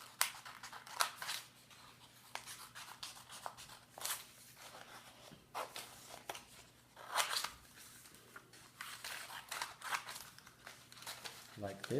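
Paper being cut with scissors to make a folded 3D string map, with a series of short crisp snips and rustles spread across the stretch at close range under a soft steady background hum.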